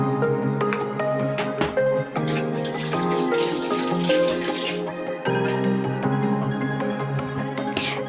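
Tap water runs steadily while raw chicken is washed in a kitchen sink, with drips and wet squishing over a continuous stream and no talking.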